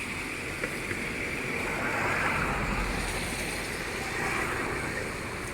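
Muddy floodwater rushes in the Chaliyar river with a broad continuous roar, steady and enveloping throughout, mixed with some wind on the microphone.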